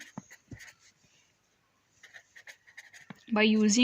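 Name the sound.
writing out a math solution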